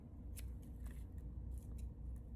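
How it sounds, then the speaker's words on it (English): Scissors make a series of sharp snips while trimming a hot-glued craft project, close up and fairly quiet over a low background rumble. "Then you can take your scissors and trim it"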